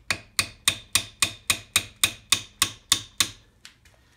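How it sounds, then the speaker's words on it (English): A hammer strikes a brass drift to tap it into a front differential case, giving eleven sharp, evenly spaced metallic blows close up, followed by two lighter taps and quiet. "a piece of brass and a hammer, and drift these in."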